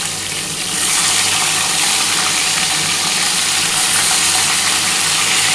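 Small katla fish pieces frying in hot oil for a tel jhal, a loud, dense, steady sizzle right up close that swells slightly after the first second and holds without pause or talk.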